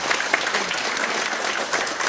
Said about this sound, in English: Big clap for Elector Venser,